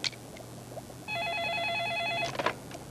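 A telephone ringing indoors, one sustained electronic ring burst lasting about a second, followed by a few clicks, faint room noise around it.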